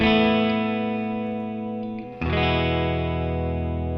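An electric guitar heard through a modelled Dr. Z amp rings out a sustained, effects-laden chord that slowly decays, then a fresh strum brings a second bright, distorted chord with chorus shimmer, loud and close with no voices.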